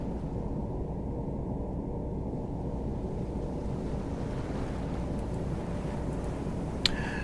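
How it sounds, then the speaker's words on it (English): Continuous rushing of waves and wind washing over a surfaced submarine on a moonless night in the game Silent Hunter 3, a steady dense roar with a brief sharp knock near the end. "As you can hear, there's still waves on top of the boat."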